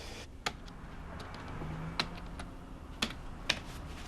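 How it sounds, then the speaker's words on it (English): Keys on a computer keyboard are struck in slow, uneven single taps, about one every half second, crisp and close over a faint steady room hiss. "Oh, I hate typing."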